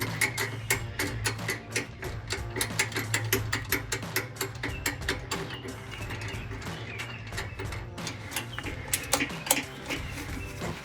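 Rapid ratchet clicks tighten an MBRP Armor Lite single exhaust on a 2019-2023 Ford Ranger, a steady run of close, crisp ticks over a low mechanical hum.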